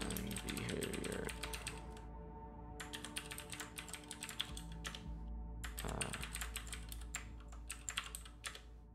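Quick, steady keystrokes on a computer keyboard rattle close by in dense bursts broken by short pauses, with a brief low murmur near the start and no clear speech.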